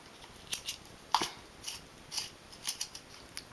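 A black eyeliner pencil being sharpened in a small cosmetic sharpener gives a series of quiet, crisp scraping clicks at an uneven rhythm, close up with no talking.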